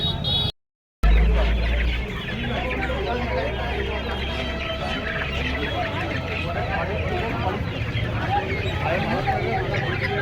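Chickens at a rural poultry market in Uluberia cluck and squawk in a busy crowd, scattered calls mixed with constant chatter and market bustle, after a brief dropout at the start.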